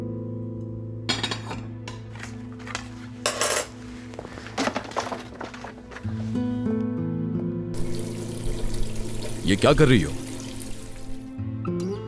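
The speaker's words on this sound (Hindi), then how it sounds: "प्लेट्स धो रही हूँ।" Plates are washed in a sink in an Urdu-dubbed drama, with dishes clinking and clattering near and clear. A tap then runs in a steady gush of water during the second half, and a voice speaks over it.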